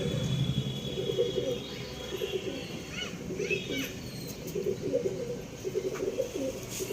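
A male Tippler pigeon coos in soft, repeated low calls at a loft, with someone talking over the cooing throughout.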